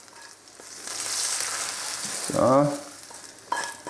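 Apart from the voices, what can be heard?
Tafelspitz beef frying in browning butter in a pan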